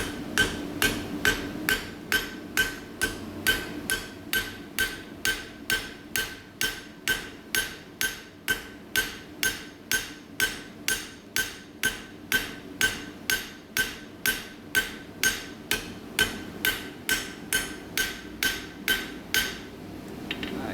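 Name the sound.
hammer striking chisel, cutting a line in metal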